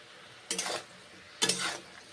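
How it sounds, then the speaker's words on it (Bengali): Mushroom and cauliflower get stir-fried in a pan, two separate bursts of scraping and sizzling from a spatula moving the vegetables, close and clear with no talking. "কষে নিচ্ছি মাশরুম ফুলকপি এখন কষে"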